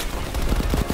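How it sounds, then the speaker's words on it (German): Rapid automatic gunfire in the Call of Duty Black Ops Cold War campaign, a dense loud burst of repeated shots lasting about a second with no talk. "Ich werde von jeder Seite hier angeschossen."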